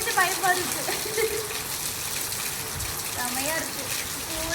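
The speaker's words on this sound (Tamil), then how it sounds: "செம்ம மழை" Heavy rain at night gushes and splashes in a constant loud wash of water, with a person speaking over it in short bursts.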